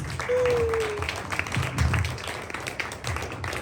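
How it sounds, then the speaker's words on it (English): Modest applause from an audience at a Tamil community gathering in Wellington, soft scattered clapping rather far off and fairly quiet, with a brief tonal whistle near the start and low murmuring underneath. "Please give her a round of applause"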